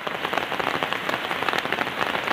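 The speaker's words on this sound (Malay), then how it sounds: "Hujan masih labek sana ya." Heavy rain pours steadily over a hillside village, a dense, close hiss of drops drumming on surfaces without a break.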